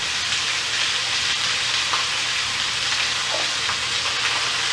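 Chicken thighs frying skin side down in a hot pan, a loud, steady, close sizzle with a constant crackling hiss throughout and no talking.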